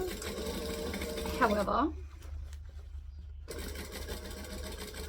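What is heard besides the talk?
sewing machine stitching fabric for a child's hat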